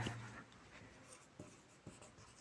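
A pen writes on paper during a class lesson, faint scratching strokes with a few soft taps in a quiet room.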